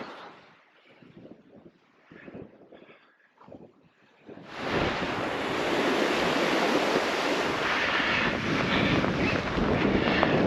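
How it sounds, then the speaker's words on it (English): Waves crash on a beach by a campsite, starting with faint distant surf and wind gusts, then swelling into a loud, continuous roar of breaking water that holds to the end. "You can hear the waves crashing"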